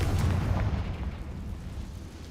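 Confringo fire spell blasting in a cave in the video game Hogwarts Legacy: a loud, rumbling explosion that booms at once and then rolls on as a sustained low roar with no speech.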